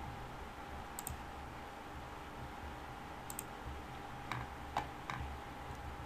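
Computer mouse clicks while working in PLAXIS software come as a few sharp, faint, isolated taps spaced irregularly over a quiet background hum.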